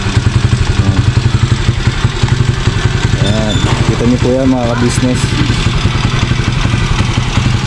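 A motorcycle engine runs in a fast, steady close-up putter that dominates the scene, while someone talks over it for part of the time.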